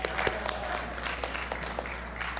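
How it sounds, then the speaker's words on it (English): Audience at the 2021 Marion County Spelling Bee applauds steadily throughout, dense clapping from a mid-distance crowd over a low room hum. "Let's give them all one more round of applause."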